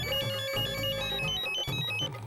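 A phone ringtone rings steadily in a home, a melodic repeating tune that plays loud and close with no talk over it.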